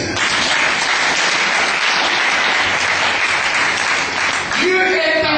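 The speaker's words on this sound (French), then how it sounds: "Acclamons le Seigneur." A church congregation breaks into loud sustained applause at a sermon, dense clapping filling the space close by, with voices mixed into the crowd noise before it thins at the end.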